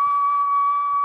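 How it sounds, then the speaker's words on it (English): Whistle sample triggered in the Reason ReDrum drum machine, a single steady pure tone held at even loudness for about a second, with a faint overtone above it and no voices. "if we go to our whistle sample that we have over here"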